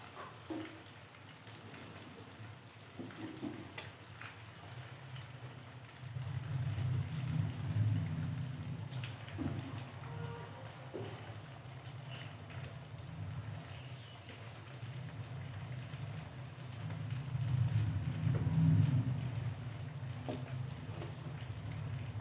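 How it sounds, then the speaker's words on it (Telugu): Sliced onions and fish pieces fry in a couple of ladles of hot oil for a fish curry, a continuous soft sizzle that swells louder midway and again near the end, without talk. "రెండు గరిటెల ఆయిల్ వేసుకుని ఆయిల్ హీట్ అయ్యాక ఉల్లిపాయ ముక్కలు వేసుకుని బ్రౌన్ కలర్ వచ్చే వరకు ఫ్రై చేసుకోవాలి"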